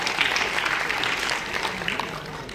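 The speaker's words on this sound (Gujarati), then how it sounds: "આપણે તાળીઓથી વધાવીએ." Dense, steady clapping from a crowd at a community student awards ceremony fills the whole stretch, loud and continuous with no pause.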